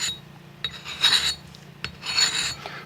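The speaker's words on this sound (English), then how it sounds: "What you do is you take just a regular fine, not too coarse file, and you do this." Fine hand file rasping scratches off an aluminum jet ski engine part, two slow, close scraping strokes with brief pauses between them.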